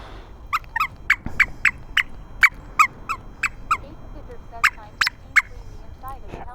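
Loud, repeated crowing and gobbling calls from a rooster, about a dozen sharp bursts in quick, uneven succession, close and clear over quiet outdoor background.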